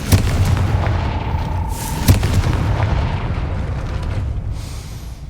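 A Confringo fire spell explodes in the video game Hogwarts Legacy, a booming blast followed by rumbling, crackling impacts and a lingering roar over a few seconds, loud and with no talking.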